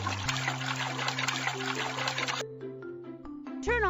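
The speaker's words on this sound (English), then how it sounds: "Add some water." Water pours in a steady, close trickle into a toy concrete mixer truck for about two seconds, then stops, leaving a few light clinks and tones over a soft background.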